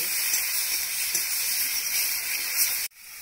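Dry firewood burning in a clay village stove gives a steady close hiss and soft crackle, continuous and fairly loud, cutting off abruptly near the end.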